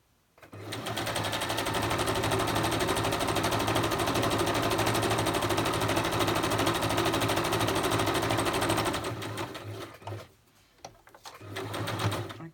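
Sewing machine stitching fabric for a junk journal, a loud, steady rapid mechanical whir running continuously for several seconds, then stopping briefly and starting again in short bursts.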